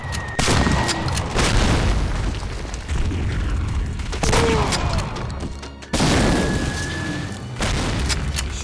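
Gunfire heard through a wall in Medal of Honor Warfighter: repeated heavy booming shots in bursts, loud and muffled, with rumbling impacts between them and little talk.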